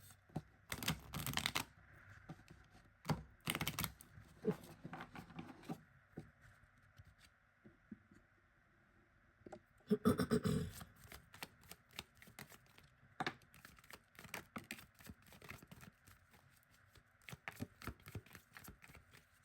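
Tarot cards being shuffled for a reading, heard as close, crisp riffling bursts with quieter rustling and tapping in between, no talking.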